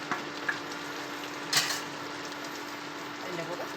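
Okra is tossed into a sizzling masala with salt in a pan, giving a steady crackling fry with a sharp clatter of a utensil partway through, and a voice can be heard faintly.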